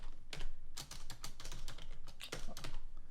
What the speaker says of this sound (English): My typing is not the best.